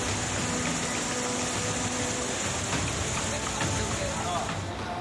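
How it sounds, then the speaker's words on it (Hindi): Heavy monsoon rain pours down in Malkangiri, Odisha, a dense, continuous hiss of downpour close by, unbroken throughout. "ओडिशा के मलकानगिरी में जबरदस्त बारिश की वजह से कई इलाके डूब गए"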